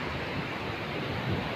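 Ocean waves at Karapyak beach in Pangandaran, a continuous broad roar of surf mixed with wind rumble, steady and fairly loud with no voices.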